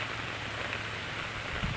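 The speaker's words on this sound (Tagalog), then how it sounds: "malamig ngayon dito sa Libmanan kasi ang lakas ng ulan" Heavy rain pours steadily at a tilapia farm in Libmanan, a dense, even hiss of drops hitting surfaces, constant and close with no voices.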